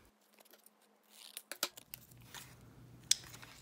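Scissors snip through paper for a mixed-media craft tag, giving a few crisp close cuts and crunchy crinkles after a quiet start, with a sharp final snip.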